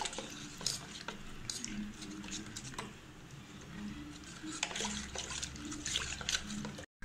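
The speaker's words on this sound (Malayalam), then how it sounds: "നന്നായിട്ട് കട്ട ഉടച്ചിട്ട് കലക്കിയെടുക്കുക" Amrutham powder being stirred into water with a spoon in a bowl, continuous soft sloshing and scraping with light clinks against the vessel, close up and without talk.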